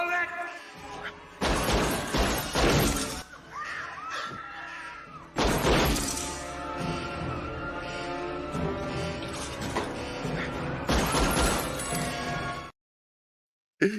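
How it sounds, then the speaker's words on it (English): A bullet shatters glass in The Fugitive (1993), giving sharp crashing impacts with tinkling debris, mixed with a busy film soundtrack of loud bursts and music before the sound cuts out near the end. "the bullet hits the glass that would have hit him in the chest"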